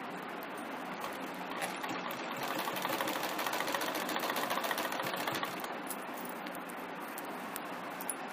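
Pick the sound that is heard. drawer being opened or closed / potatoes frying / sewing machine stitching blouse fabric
sewing machine stitching blouse fabric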